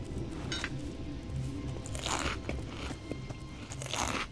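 A character crunches loudly on well-roasted meat in the Elex 2 video game, several sharp crisp bites and chewing sounds in repeated bursts, with no talk over them.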